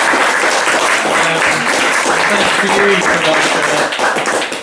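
Audience gives a big round of applause after a talk, dense continuous clapping filling the room for several seconds, loud and close, with some voices mixed in before it tapers at the end.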